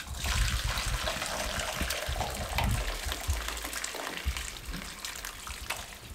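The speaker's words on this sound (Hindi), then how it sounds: "यहाँ पे एक बॉल ले लिया, स्ट्रेनर रख लिया, यखनी को छान लेते हैं" Chicken yakhni broth pours through a strainer into a bowl, a continuous splashing trickle of liquid heard close up and alone, with some heavier gushes along the way.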